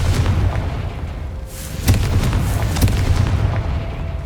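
A Confringo fire spell in the video game Hogwarts Legacy bursts with sharp, booming explosive cracks, two distinct impacts landing over a low ambient rumble.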